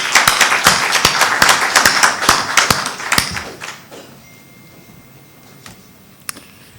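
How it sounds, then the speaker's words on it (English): Sparse applause from a small seminar audience, a handful of distinct loud claps for about three seconds before dying out into near silence with a couple of stray claps. "Let's give him a good round of applause."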